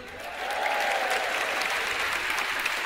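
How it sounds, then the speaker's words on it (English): A school audience claps and cheers steadily for a primary school dance show, dense applause sustained throughout with a few whoops rising above it. "One more big cheer, everybody."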